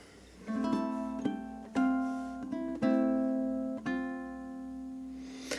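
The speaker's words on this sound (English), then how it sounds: "So we're doing something that's called artificial harmonics." Ukulele artificial harmonics ring out as bell-like, sustained tones, plucked one after another in a slow, deliberate sequence from Chopin's Funeral March, played alone.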